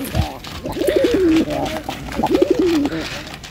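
White pigeons cooing nearby in two drawn-out, rolling phrases, with a voice talking over them.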